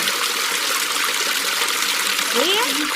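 The wide, deep Dnipro river flowing in the Kherson region gives off a steady, loud rushing wash of water that fills the whole moment, with a faint brief tonal sound near the end.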